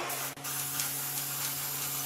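A steady, broadband hiss of aerosol spray paint onto a stencil, continuous for about two seconds with a brief dip near the start, with a faint hum underneath.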